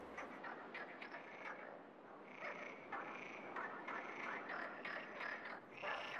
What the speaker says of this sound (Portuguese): As rãs aguardavam que o sol as aquecesse, mas na verdade são as hormonas que as põem excitadas, levando-as a cantar e a lutar pelo seu lugar de direito no charco